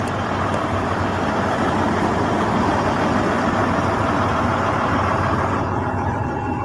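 An old truck's engine runs steadily, a dense, loud, even rumble that stays unchanged from start to finish with no voices.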